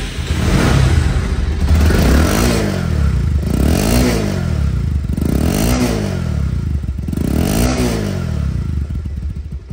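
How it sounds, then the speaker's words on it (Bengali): A second-hand Bajaj Pulsar single-disc motorcycle with about 8,048 km on it runs close by, its engine throttled up in four rising-and-falling revs over a steady rumbling idle, with no talking. "এখন সাউন্ড কোয়ালিটি শোনাবো, বাইকটি চলা দেখাবো।"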